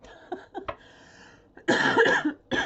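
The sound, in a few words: cough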